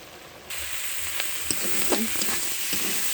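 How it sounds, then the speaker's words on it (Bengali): Purnima greens with crab and green chillies fry in a pan, a soft steady sizzle rising after a brief quieter start, with a few faint clinks of stirring close by. "এই দেখেন ভাজা আমার হয়ে গেছে"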